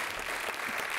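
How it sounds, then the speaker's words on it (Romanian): Studio audience applauding on a Romanian TV quiz show after a correct answer, a brief, continuous burst of clapping that fills the moment without any voices on top. "i-a aplaudat așa cu sinceritate, v-a aplaudat pe amândoi"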